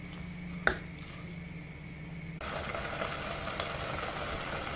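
Rice and lentils for chakkara pongali simmer in jaggery syrup with a quiet, steady bubbling that grows slightly fuller partway through, with one sharp clink near the start.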